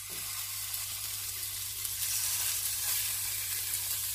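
Thick beef chilli dog sausages frying in a pan: a steady, close hiss of sizzling fat with a low hum underneath, even and continuous throughout.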